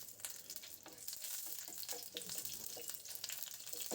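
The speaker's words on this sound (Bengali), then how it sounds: "হালকা একটু তেলে ভেজে নেব।" Panch phoron and green chilli sizzling in hot oil in a pan, a steady broadband crackle and hiss with small spits and pops running continuously, close and fairly loud, with no voices.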